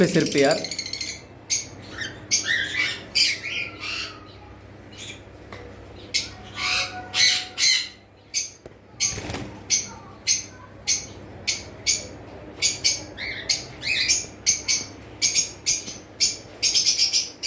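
Albino lutino Fischer's lovebirds squawk and chirp in rapid, sharp bursts close by, a busy irregular chatter of calls with a faint background hum and a person speaking briefly.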